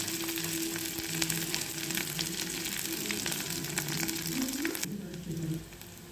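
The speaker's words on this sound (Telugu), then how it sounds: "ఇలా పచ్చిమిర్చి వేయించుకోవాలి" Green chilies, garlic and curry leaves sizzle and fry steadily in hot oil for a coconut milk rasam, a continuous close crackle that drops off slightly near the end.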